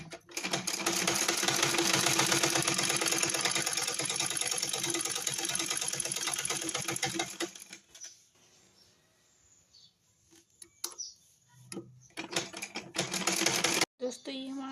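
A sewing machine stitches a trouser, with a dense, fast, close mechanical whir for roughly seven seconds, then quieter handling and brief bursts of stitching, with someone talking in places.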